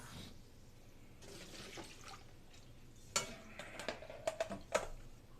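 Cream is strained through a strainer into a bowl in a home kitchen: a faint trickle with scattered soft drips and small clicks near the end, quiet and close.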